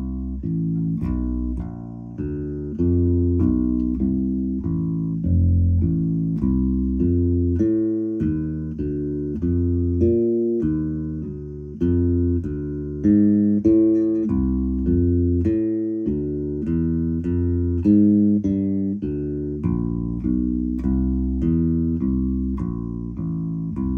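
An electric bass plays a written walking bass line, steady quarter-note plucks moving through a jazz progression, close and clear with no talking.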